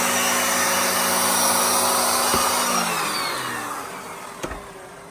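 A Nilfisk GM80 vacuum cleaner motor runs loud and steady with a whooshing airflow roar, winding down slightly toward the end, with two brief knocks.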